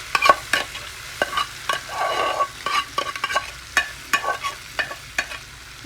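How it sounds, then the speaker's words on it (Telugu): Lentils stirred through a hot tempering in a pan, sizzling steadily while a spoon scrapes in short repeated strokes close by. "పప్పుని ఇందులోకి వేసుకోండి."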